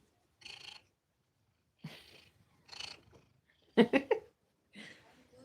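A cat trilling repeatedly up close, short chirruping calls with pauses between, one louder rolling burst in the middle; soft purring underneath.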